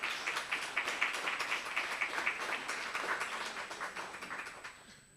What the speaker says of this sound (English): can we just give a round of applause to Prof?